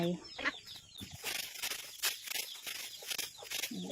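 Chickens cluck nearby in short, scattered bursts, with an outdoor background.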